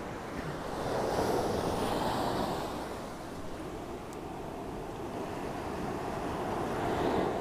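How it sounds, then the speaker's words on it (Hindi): Ocean waves breaking and washing on Anjuna Beach in Goa, a steady loud surf roar with wind noise on the microphone, swelling in slow surges with no talk. "मैं सोचा नहीं था इसकी जो लहरें होती है वो इतना ज़्यादा आवाज़ करती होंगी भाई।"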